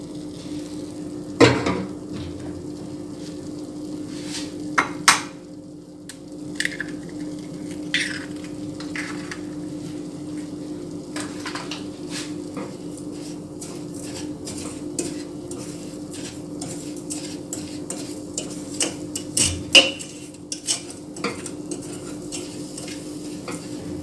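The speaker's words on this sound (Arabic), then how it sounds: "نبقاو نحركو حتى يذوب لينا كامل" Caramel stirred in a pan as it melts, a steady low sizzle with scattered metallic scrapes and clinks of a spoon against the pan, close and continuous with no talk.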